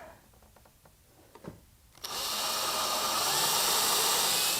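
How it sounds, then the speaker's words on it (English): Screws go into the end of a wooden compost bin: after a few quiet clicks and taps, a power drill starts up and runs as a loud, steady, close whir until the end, with no talk. "But I want to put 2 screws on the end here."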